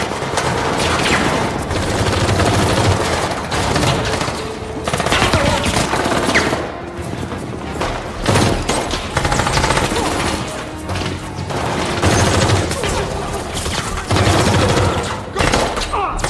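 Sustained automatic gunfire and rapid shots from an action film shootout between the President's protectors and terrorists, loud and dense throughout with brief crashes, no clear talk.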